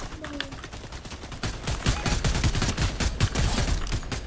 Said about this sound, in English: Someone just tried to shoot me.